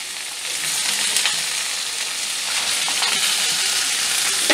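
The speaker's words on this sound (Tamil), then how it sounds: "எல்லாம் ஒன்றா சேர்த்து வதக்கிப்போம்" Ingredients for hariyali chicken sautéing together in a pan, a dense, even sizzle that holds steady throughout, with faint clicks of stirring and no voices.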